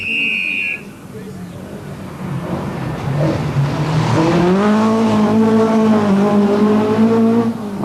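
Renault and Vauxhall rally cars race on the 1984 Circuit of Ireland Rally, their engines rising in pitch as they accelerate and roar loudly past at close range.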